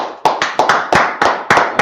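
A church congregation at a Sabbath service clapping hands together in time, about eight sharp claps in a brisk, slightly uneven rhythm, loud and close.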